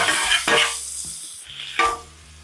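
Sliced onions stirred in a hot pan with a splash of Worcestershire sauce and balsamic vinegar, a steady close sizzle broken by two or three louder scraping stirs, with no talking.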